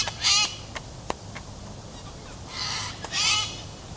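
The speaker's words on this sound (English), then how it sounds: "Those are those cockatoos I'm always talking about." Cockatoos call in Royal National Park, several loud harsh screeches spaced across a few seconds, outdoors and somewhat distant, with faint ambient background between calls.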